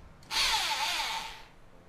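Bosch power drill spinning up in reverse and running steadily at high speed for about a second, then winding down; a single close, loud whine with no talking.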